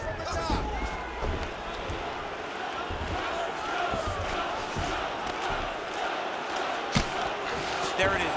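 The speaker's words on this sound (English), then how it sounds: "the crowd continues to react with every passing land" A dense arena crowd roars and murmurs steadily throughout a simulated UFC 5 heavyweight bout between Jon Jones and Tom Aspinall in round 3, with a few sharper swells and impacts rising above the constant wash of noise.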